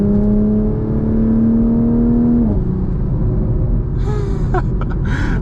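A Toyota MK5 Supra in sport mode accelerates from inside the cabin, its engine note climbing steadily, dropping at a gear change, then rising again under a loud, constant road rumble.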